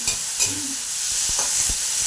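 Neem leaves fry in hot oil with a steady, soft hiss and a few light stirring knocks and scrapes of the pan, close by with no talking.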